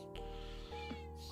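A cat meows once or twice close by, a short drawn-out cry over a steady low hum.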